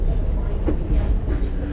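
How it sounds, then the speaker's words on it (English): Heritage steam train of the Strasburg Railroad rolling along the track, a loud continuous rumble with rhythmic wheel clatter close by. "Our locomotive will be passing by in the parking lot side of the train."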